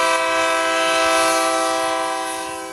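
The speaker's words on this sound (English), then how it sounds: "Maybe that's it, as I hadn't heard the train yet." A train horn on the Junction line in Central Mississippi sounds loud and close as a steady multi-tone chord, held without a break and fading slightly at the end.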